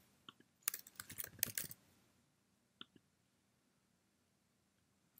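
Computer keyboard typing a search term into the find field of a Cisco Unified Communications Manager admin page: a quick close burst of clicky keystrokes over about a second in a quiet room, then a couple of isolated clicks.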